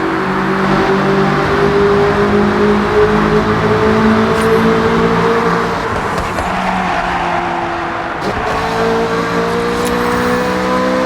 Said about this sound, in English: Get ready to blast those engines. Tunnel coming up.